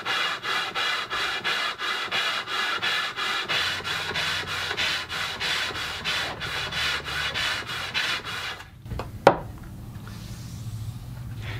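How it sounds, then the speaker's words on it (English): Steady rhythmic rasping of an aluminum sanding block rubbed back and forth across wood, about two strokes per second, then stopping with a knock and quiet. "using some sort of a sanding block, it could be wood, this one I have happens to be aluminum"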